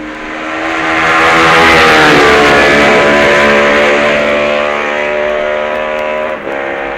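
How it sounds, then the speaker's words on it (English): A Honda Norton Special racing motorcycle at the 1966 Isle of Man TT races through Union Mills, its engine a loud, close, sustained roar that swells as it nears and then holds a steady high-pitched wail, with no talk. "Dave Simmons races through Union Mills on his Honda Norton Special."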